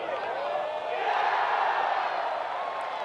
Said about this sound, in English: That's the reaction you want to hear from the crowd.